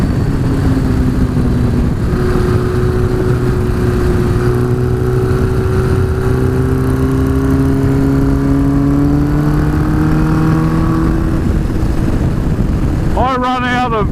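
A Yamaha motorcycle engine pulls hard in top gear, a loud steady drone climbing slowly in pitch for about thirteen seconds, ending in a brief rapid burst of higher revving.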